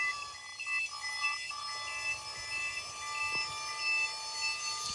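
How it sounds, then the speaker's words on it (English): A warning buzzer sounds steadily as the dump bed of a Subaru Sambar mini truck raises, a continuous high tone held over low mechanical hum throughout. "Nice little warning buzzer."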